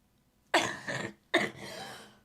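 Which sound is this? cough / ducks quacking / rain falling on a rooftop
cough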